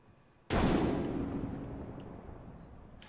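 A frag grenade goes off in Apex Legends, a single sharp blast that hits loud and then fades into a long rumbling decay with no voices.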